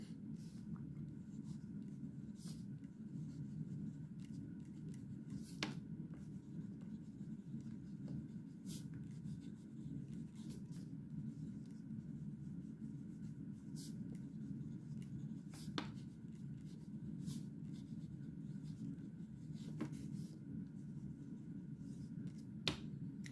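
A Pelikan M400 Souverän fountain pen with a piston filler scratches lightly across paper, a soft continuous hiss broken by faint sharp ticks of the nib, very quiet and close.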